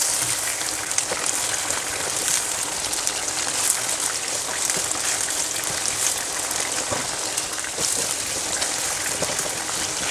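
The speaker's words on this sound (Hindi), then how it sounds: "अभी मैं हाई फ्लेम पे इसे भून रही हूँ।" Chicken for a charsi karahi fries in a pan over a high flame. A dense, steady sizzle crackles with small pops throughout, close and fairly loud, with no one talking.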